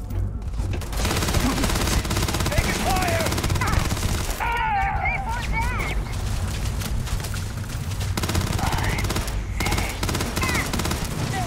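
Turret gunfire in Starfield, sustained rapid shooting and loud blasts filling the whole stretch, dense and close, with voices breaking through in places.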